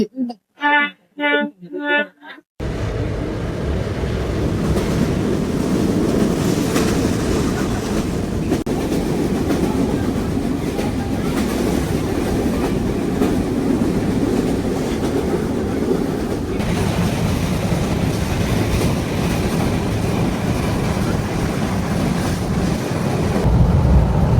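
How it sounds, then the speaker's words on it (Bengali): A passenger train rumbles steadily along the tracks, a constant loud roar with faint rhythmic clatter, after a brief moment of voices at the start. "ট্রেন এদিকে যাচ্ছে"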